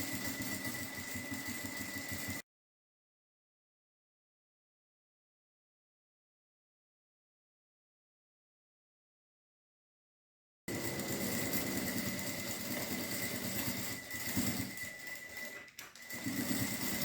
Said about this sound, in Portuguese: Agora, eu vou lá na máquina e vou passar uma costura.